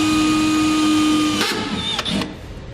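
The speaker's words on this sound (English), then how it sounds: "After I mark my holes, I like to drill them out with a very small pilot bit." A drill fitted with a very small pilot bit bores holes into the bed of a 2015 Chevrolet pickup truck, a loud close steady whirring whine that holds and then breaks into a few short bursts as it cuts through.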